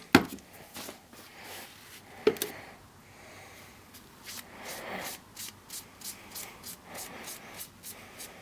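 Metal parts being wiped clean with 91% isopropyl alcohol in a shop: a couple of sharp knocks, then a run of soft, regular rubbing strokes, close and quiet.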